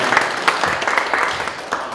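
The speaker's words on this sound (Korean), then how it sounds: "다 같이 박수를 한번 보내드리도록 하겠습니다" An audience at a university award ceremony for the best posters at a regional research conference breaks into applause. The brief, lively clapping is close and fairly loud, with scattered sharper claps.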